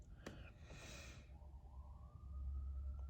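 Siren wailing outdoors, a rising tone that settles into a steady held pitch toward the end, fairly faint beneath a low rumble of background noise, with no talking.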